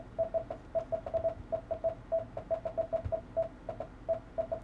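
Short beeping modem tones from a Synchronet virtual DOS modem repeat in an irregular on-off pattern over a low hum, like a data signal keyed on and off, steady and moderately loud.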